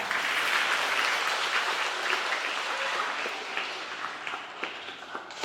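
Audience applause at a children's concert marking International Children's Day, a steady broad wash of many hands that gradually thins, with a few louder individual claps standing out near the end.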